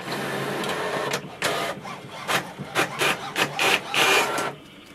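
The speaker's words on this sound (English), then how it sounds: "Click on the copy icon in the end and it will start the copy here." An HP OfficeJet Pro 9018 printer makes a copy, giving a run of loud, close mechanical whirs and scraping feed pulses that rise and fall in quick bursts before fading.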